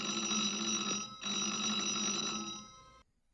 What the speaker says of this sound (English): Probably not a good idea to sneak into places and answer the phone.